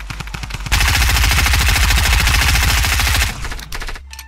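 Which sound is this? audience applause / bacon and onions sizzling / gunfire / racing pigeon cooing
gunfire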